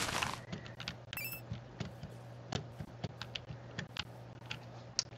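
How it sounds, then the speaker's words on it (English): Clicky, loud computer keyboard keys tapped in an uneven run of sharp individual strikes over a faint hum, close up and with no talking. "My keyboard is really loud, which when you're typing is really nice"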